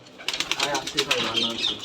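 Rajshahi Giribaz pigeons flutter close by, their wings flapping in quick bursts, while a voice murmurs in the background.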